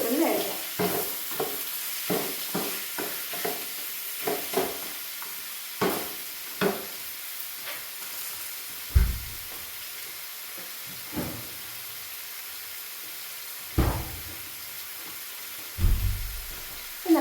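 Chicken curry sautéing in a pan, a steady sizzle and hiss with repeated close scrapes and clinks of a spoon stirring against the pan at irregular intervals, with no talking.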